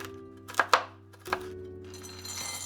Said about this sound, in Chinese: 颗粒比较大的像核桃、花生、胡桃仁，拿出来切碎。